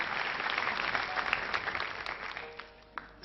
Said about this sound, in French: On applaudit très très fort les candidats.